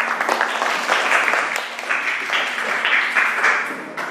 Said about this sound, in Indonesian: Ya, oke, tepuk tangan dulu.